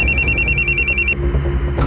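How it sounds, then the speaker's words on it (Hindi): A telephone rings for an incoming call, a steady repeating electronic ring pulsing in quick bursts for about a second, then cutting off, leaving a low background hum. "1 मिनट, उसी नंबर से फोन आया।"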